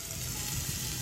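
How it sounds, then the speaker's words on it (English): Chicken seasoned with McCormick Montreal seasoning sizzling in a pan, a steady hissing fry close up with a faint low bubbling underneath. "Once it starts sizzling like it is"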